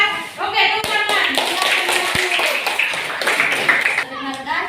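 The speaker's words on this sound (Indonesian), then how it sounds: "Oke, tepuk tangan." School students in a classroom clap their hands together in a brisk burst of taps, close and loud, mixed with children's voices and chatter.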